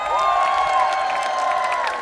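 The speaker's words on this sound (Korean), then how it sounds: "자 그러면 박수와 함성 주시기 바랍니다" Crowd cheering and clapping at an outdoor flower festival concert, loud and continuous, with a sustained tonal sound running over the noise of the audience.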